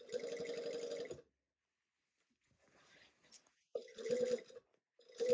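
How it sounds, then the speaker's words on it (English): A sewing machine stitches a seam on men's chino pants with a rapid buzzing hum, running for about a second, stopping through a quiet gap, then starting again in shorter bursts. "now we are just going to sew with our 3/8 seam allowance"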